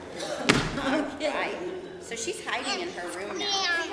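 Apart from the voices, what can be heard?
bedroom door being slammed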